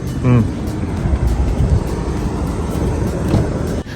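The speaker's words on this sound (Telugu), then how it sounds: "మళ్ళీ ఇంకో హెలికాప్టర్ గ్లేషియర్ కి వెళ్ళబోతుంది" A helicopter flying to a glacier roars with a steady, loud drone of engine and rotors, with a brief voice near the start.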